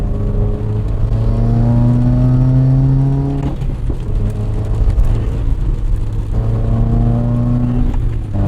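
A car drives on a winding road, its engine revving up through rising gear pulls with shifts in between, a loud close in-cabin drone of acceleration.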